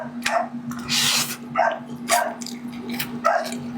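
Male dogs bark repeatedly at close range, several sharp yapping barks in an irregular series, over a steady electrical hum.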